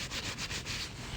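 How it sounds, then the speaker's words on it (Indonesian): A blanket rubs and rustles in short repeated swishes, close and fairly loud, with no talking over it. "Oh, ini suara selimut, guys."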